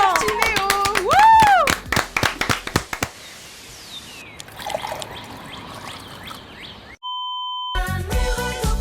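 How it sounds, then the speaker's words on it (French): Audience applause at a live music show: a stretch of crowd clapping with a whistle, set between bright musical notes and sharp electronic tones. "Alors s'il vous plaît, un maximum d'applaudissements."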